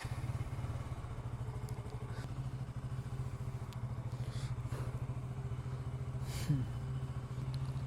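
A motorcycle engine already running at a steady, close idle, its low putter continuous throughout with a brief thump near the end.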